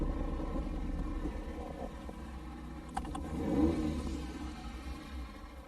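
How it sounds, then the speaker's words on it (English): A Ferrari Mondial runs on a race course, its engine a low, steady droning rumble heard at a distance, swelling briefly as it revs before settling again, faint and continuous with no voices. "John, how do you find the Mondial handling the course?"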